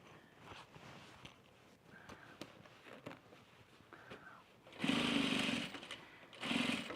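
A sewing machine stitches slowly through thick laundry-basket seams, faint ticks and shuffles giving way to two loud motor runs near the end, the second shorter, with no voices.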